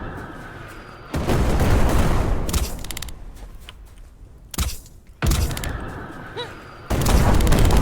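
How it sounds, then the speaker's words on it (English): Loud, heavy blasts and rumbling bursts of video game explosions in Black Skylands go off in several waves, separated by brief quieter gaps. "the explosions can hurt her even while she's like falling"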